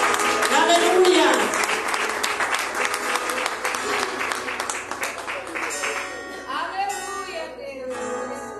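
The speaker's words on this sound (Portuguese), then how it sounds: "E as palmas para o meu Senhor" Church congregation applauding during a Portuguese-language worship service, a dense wash of clapping under loud talk and music, fading slightly toward the end.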